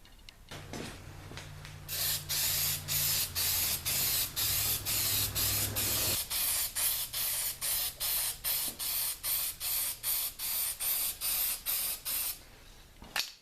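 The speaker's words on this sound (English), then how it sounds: "I'm going to personally use aerosol primer, lightly coat the area where the body work has been done" Aerosol primer is sprayed in light coats over the body-filler repair on a Chevy Astro/GMC Safari radiator core support area, heard as a long series of close, loud hissing bursts in a steady on-off rhythm with no talking.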